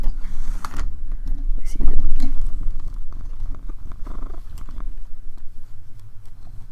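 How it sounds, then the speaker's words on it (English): A cat purrs close up in a low, continuous rumble, joined by occasional soft clicks and rustles, with no voices over it. "I don't know if you can hear the purring."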